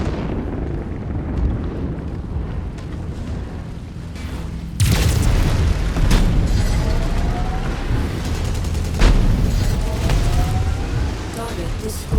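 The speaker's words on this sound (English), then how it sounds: "That mech is going critical." A mech exploding in the MechWarrior 5 Mercenaries video game, a loud sudden blast that jumps into a sustained rumbling roar amid battle noise and intermittent booms, with game voices heard.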